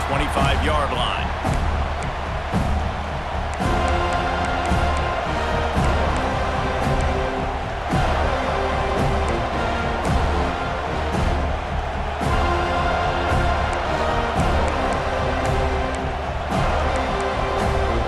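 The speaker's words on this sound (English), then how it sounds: "This crowd ready to make its presence known." Dense stadium crowd roaring steadily at a Florida State versus Clemson college football game, a loud continuous wash of cheering that holds for the whole stretch, with a commentator talking over it.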